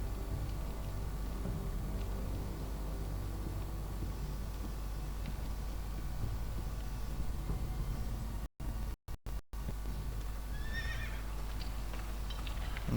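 A horse in a Game of Thrones video game whinnies faintly near the end, after a long stretch of hooves and a steady, noisy outdoor background broken by a few brief dropouts.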